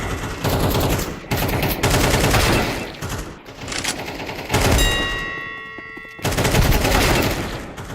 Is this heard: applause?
no